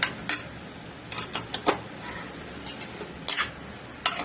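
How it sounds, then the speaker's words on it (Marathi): A spoon clinks and taps against a pan while mixing salt into a bottle gourd and chana dal curry, with scattered sharp metallic ticks spaced irregularly over a quiet background. "आता आपण एक चमचा मीठ टाकून घेऊ याच्यामध्ये परत असं व्यवस्थित असं मिक्स करून घेऊया"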